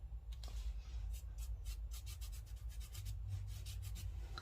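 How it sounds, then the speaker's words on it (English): Gold is rubbed onto textured paper during a papercraft project, giving quiet, dry scratchy strokes in an irregular series of short passes close to the microphone. "I'm just rubbing it on just indiscriminately."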